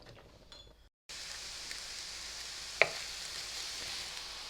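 Green pepper and onions cook in a pan with a soft, steady sizzle, broken by a brief pause near the start and one sharp clink partway through, no talking.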